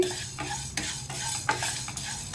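Chana dal being dry roasted in a pan on the stove, stirred with a spatula: repeated scraping and rattling sweeps at a steady rhythm, close and fairly quiet, with no voices.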